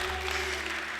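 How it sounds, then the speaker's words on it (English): Audience at a fashion masterclass claps for the speaker's team, a brief, steady wash of applause heard from a distance in a large hall. "Please clap for my team."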